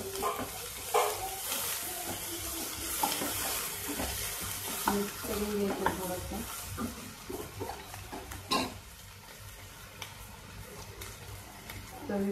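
Cumin, chili and curry leaves crackle and sizzle in hot oil while being stirred for a Malvani raw banana bhaji, a steady moderate frying hiss with scraping, under a speaking voice.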